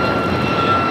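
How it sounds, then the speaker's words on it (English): A brand-new United Airlines Boeing 737 MAX 8 takes off at LAX, its steady, loud jet engine roar filling the whole moment without a break. "Next takeoff, United Airlines flight 2431 heading to Cleveland, Ohio in a brand new 737 MAX 8."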